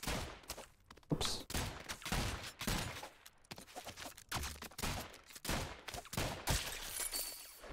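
Rapid bursts of gunfire in the video game ROUNDS, repeated shots in quick succession with short gaps, loud and close throughout.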